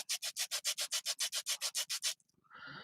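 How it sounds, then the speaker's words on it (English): A cork Christmas ornament being sanded smooth with sandpaper, about fifteen quick, even rasping strokes back and forth, then a brief muffled shuffle. "I'm going to take a little sandpaper and I'm just going to smooth it out"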